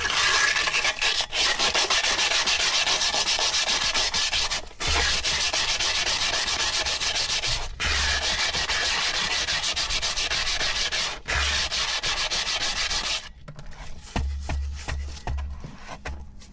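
Continuous rough rubbing of sandpaper against a dusty caravan brake drum, steady scratchy strokes with brief pauses between passes and a few softer scuffs near the end.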